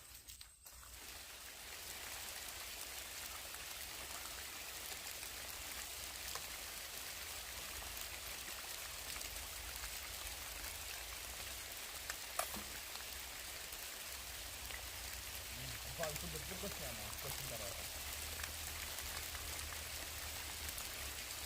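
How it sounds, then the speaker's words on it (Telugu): Steady rain pattering onto water, a dense even hiss throughout, with a couple of brief words spoken faintly near the start. "వర్షం ఎక్కువైతుంది"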